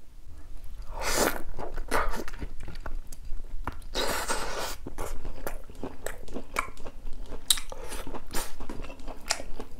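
Someone eats braised beef short ribs, with close, wet chewing and crunchy bites in irregular bursts, moderately loud and with no talking.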